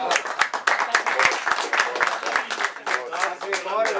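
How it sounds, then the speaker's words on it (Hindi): An audience at a mushaira poetry recital in Dallas, Texas applauds a ghazal with steady, moderately loud clapping, and voices call out and speak over it. "और गजल के लिए तालियों में गुजारिश करें।"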